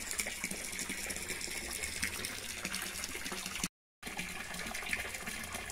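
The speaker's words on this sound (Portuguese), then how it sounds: "Só estou completando a água aqui" Water gushes steadily into a bathtub as it is topped up for a bath, a continuous close splashing rush with a short silent gap near the end.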